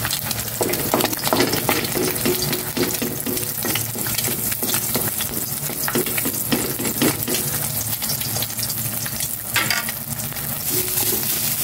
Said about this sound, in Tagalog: Nag-ano na ako dito ng kawaling may mantika para ma-fry ko na yung egg.